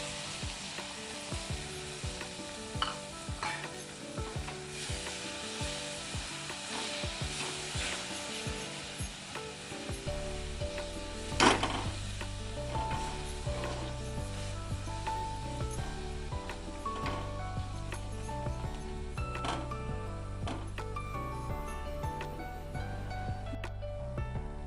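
Three eggs frying in a pan with rice and dried fish, a steady sizzle that grows louder and fuller partway through, with occasional scraping and stirring.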